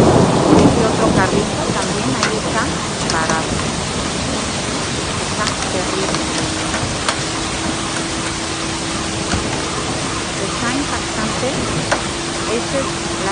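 Heavy rain pours steadily during a thunderstorm in Mexico's Edomex area, a dense, loud roar with thunder rumbling underneath and a faint steady hum joining midway.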